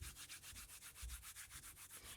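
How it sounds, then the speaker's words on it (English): Two palms rub briskly together in a steady back-and-forth rhythm, about eight strokes a second, making a soft, close, dry swishing friction sound in a quiet room during a yoga warm-up. "Begin to rub the hands together and generate some heat."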